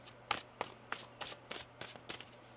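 Tarot cards are shuffled by hand in a quiet room, making a run of crisp papery riffles and soft snaps roughly every third of a second, close and gentle.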